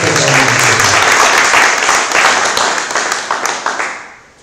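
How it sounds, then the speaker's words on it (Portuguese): A church congregation applauds loudly during a celebration service, a dense wash of many clapping hands that holds steady, then thins into scattered claps and fades out. "Se você crê, dê glória a Deus e aplauda o Senhor fortemente."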